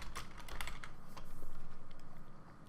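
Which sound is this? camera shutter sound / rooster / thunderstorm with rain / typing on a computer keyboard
typing on a computer keyboard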